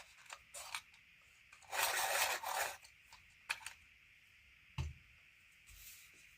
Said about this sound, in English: Let me just sharpen it a bit.